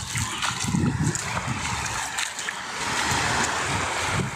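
Surf washing onto Hua Hin Beach in Thailand, a steady rushing wash of waves with low rumbling swells, fairly near and continuous.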